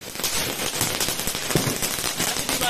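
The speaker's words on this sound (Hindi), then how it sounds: "पटाखे भी मिल गए, आतिशबाजी खूब छोड़ी इन लोगों ने" Diwali firecrackers go off outdoors, with a dense run of sharp cracks and pops bursting in quick, irregular succession at moderate loudness.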